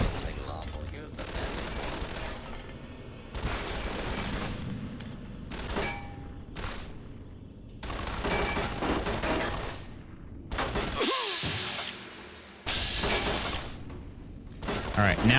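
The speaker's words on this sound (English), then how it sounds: "They shoot each other." Turrets and robots trade gunfire in Fallout: New Vegas, with loud bursts of rapid shots, shattering impacts and booms coming in clusters separated by brief lulls, close and dense, while a voice talks at times.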